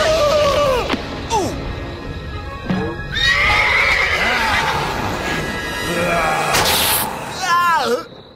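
A cartoon horse in a Halloween Sleepy Hollow tale gives several loud neighs and whinnies, with clip-clopping hooves and a crash. Excited cartoon voices talk over the sounds.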